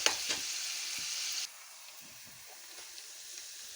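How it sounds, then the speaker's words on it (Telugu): Chopped green chillies frying in oil until brown for a fish curry, a loud bright sizzle with crackles that drops abruptly to a quieter, softer simmer with occasional light pops. "కట్ చేసి పెట్టుకున్న పచ్చిమిరపకాయలు, ఇలా బ్రౌన్ కలర్లోకి వచ్చే వరకు ఇలా వేస్తూ ఉండాలి"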